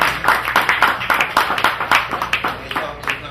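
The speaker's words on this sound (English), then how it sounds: "Y'all give my friends a strong round of applause." Audience at a comedy show claps in rhythmic bursts, distinct hand claps repeating quickly and fairly close, with some voices mixed in.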